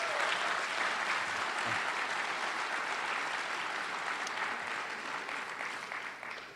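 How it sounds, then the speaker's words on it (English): A crowd claps for community organizations and schools at a ward address event, a continuous wash of applause that is steady and moderately distant, fading slightly at the close. "Let's give them all a round of applause."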